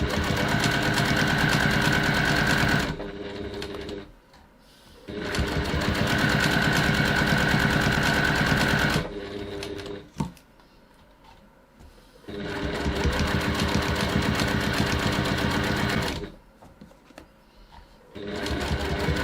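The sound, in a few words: sewing machine stitching the bottom seam of a bag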